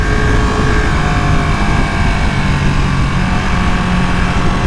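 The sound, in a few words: Ducati Panigale V2 motorcycle engine accelerating on road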